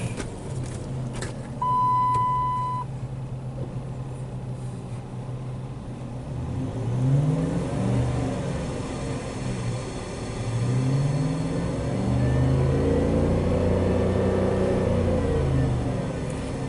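A 2006 Dodge Charger with a 5.7L engine that has stalling and surging problems cranks and starts, then runs with a steady low rumble that swells and revs at intervals. The engine is close and loud, with a brief electronic beep near the start.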